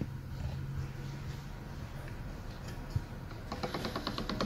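Pastry dough for fried molen being rolled through a pasta roller machine set to its widest gap, a low mechanical rumble joined near the end by rapid clicking ticks of the turning rollers, with no talk.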